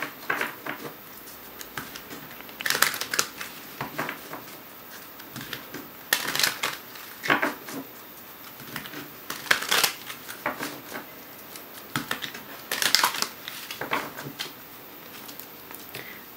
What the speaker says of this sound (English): A little bit of shuffling for Scorpio.